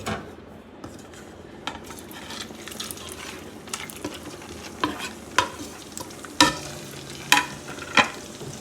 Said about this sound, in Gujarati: તો હવે આપણે આને ફરીથી ફ્રાય કરી લઈએ